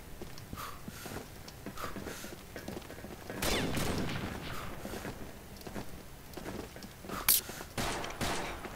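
Gunfire in the online shooter Combat Arms, with bursts of rapid shots and scattered single cracks over steady in-game background noise, a denser volley midway and a sharp loud shot near the end.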